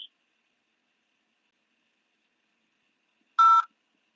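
A single short telephone keypad tone sounds once while navigating an automated phone menu, sharp and clear, following nearly three seconds of silence.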